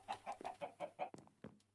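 Chickens in a Minecraft chicken coop cluck in a quick run of about six short, evenly spaced calls, then a few sharper, scattered clucks, close and clear with no talking.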